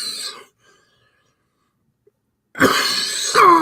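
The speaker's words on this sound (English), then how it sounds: "It's dry cough, and it gets going when I start to talk a lot." A person's dry cough comes in short, harsh bursts near the end, close and loud, with a brief rasp at the very start and silence between.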